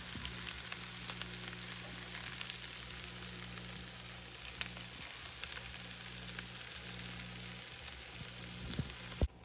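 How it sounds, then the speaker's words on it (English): Alfredo sauce goes into a hot pan of chicken, broccoli and noodles, giving a steady broadband sizzle and frying hiss throughout with a low hum beneath and a sharp clink near the end. "Now I'm going to add the sauce in."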